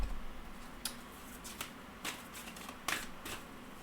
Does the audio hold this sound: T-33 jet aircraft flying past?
no